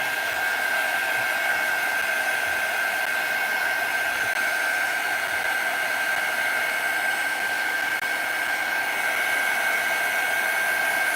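A hair dryer blows continuously to dry paint on an art journal page, a loud, steady whooshing roar with a constant whine that holds unchanged throughout, no voices.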